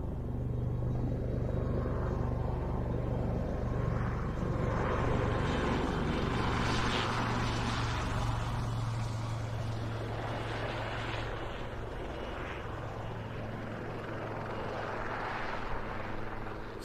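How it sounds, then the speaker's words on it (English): A Westland Lynx helicopter flies at an air show, a continuous heavy rotor and engine rumble with a steady low drone, loud and sustained throughout, easing slightly toward the end. "This, of course, the helicopter that holds the rotary airspeed record."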